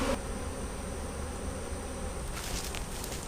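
A swarm of honeybees in a tree buzzes and fans at close range in a dense, continuous hum, with a few brighter flutters toward the end.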